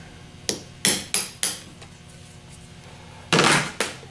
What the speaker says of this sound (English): We're going to use a 14 millimeter socket to hold it on there and tap on it just to get it started